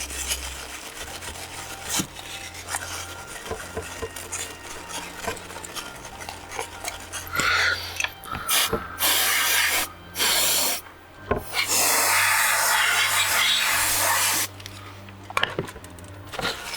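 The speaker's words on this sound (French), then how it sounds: "J'essaie de nettoyer un petit peu l'intérieur." Rubbing and scraping while the inside of a handheld game console screen is cleaned during a burnt-screen repair on a WonderSwan or Game Boy Pocket. It is close and intermittent, with louder bursts of rasping strokes in the second half.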